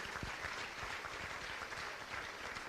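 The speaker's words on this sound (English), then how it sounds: "Please keep the round of applause going." An audience claps steadily for Claire Nealon, a Manalapan High School multi-sport senior, at an athletics senior awards ceremony; the applause is even and moderately distant, with no voices over it.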